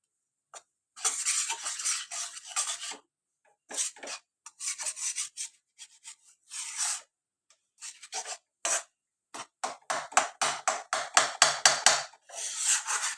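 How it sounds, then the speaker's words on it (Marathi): A spoon scrapes and rasps against a pan while sticky jaggery papdi filling is stirred, coming in irregular bursts of rubbing strokes with short pauses between, growing quicker and more rhythmic toward the end. "हलवत राहायचं म्हणजे खाली लागणार नाही"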